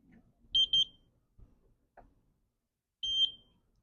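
A Harbor Freight metal detector powering up on a 9-volt battery gives short, bright electronic beeps: a quick double chirp, then a single beep a few seconds later, with faint handling noise in the quiet between them.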